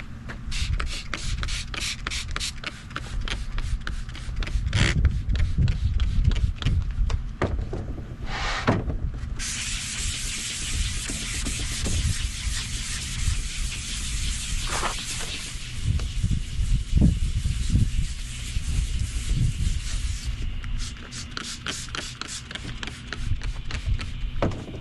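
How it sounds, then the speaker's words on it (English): A hand sander works over a fiberglass hatch cover with gel coat, a close, continuous rough rasping that swells and eases in strokes, marked by a few sharper knocks and scrapes and no talking. "sanding it with my hand sander."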